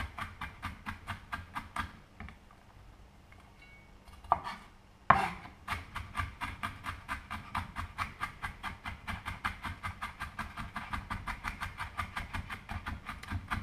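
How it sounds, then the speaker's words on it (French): A kitchen knife chops an onion on a cutting board with a rocking motion, tip held down, producing rapid, steady, close-up rhythmic taps that pause briefly around the middle, then resume at an even faster pace. "vous pouvez hacher aussi votre oignon"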